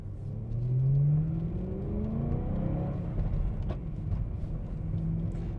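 A BMW E92 M3 with a V8 engine pulls hard from inside the cabin, its rising engine note sweeping upward through the revs over a deep rumble, with no one speaking.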